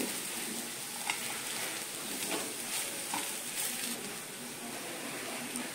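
Raw banana slices fry in a pan with a soft, steady sizzle and crackle, fairly quiet and even, with a few faint clicks.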